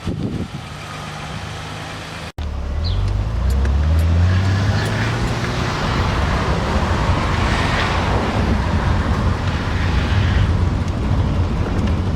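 A barn-find BMW E30 starts moving after a click, its engine rising into a steady loud drone with road and wind noise as the car drives on, recorded from inside.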